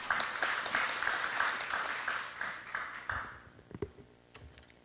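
Audience applause at a Korean welfare policy forum, quiet and steady at first, then thinning out and dying away into a few isolated claps and small knocks near the end.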